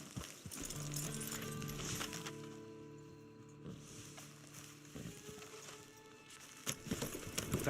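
Horse hooves clip-clop steadily across the ground in the video game Red Dead Online, a continuous rhythmic patter over a humming game soundtrack, with no talk.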